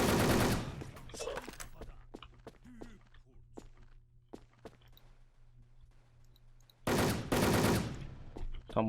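Automatic gunfire sprays in a Wolfteam shooter match, coming as loud dense bursts at the start and again near the end, with sharp scattered shots and a steady hum between them while a voice talks over the action.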